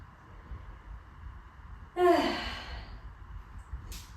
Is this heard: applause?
no